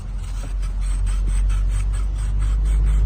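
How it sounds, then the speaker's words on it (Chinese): Fine 2000-grit sandpaper rubbed back and forth over a worn camshaft end from a Passat 06H engine, giving a steady close rasping scrape with soft rhythmic strokes over a constant low hum. "这种凸轮轴轴头的磨损啊，用2000号的细砂纸稍微撸一下啊"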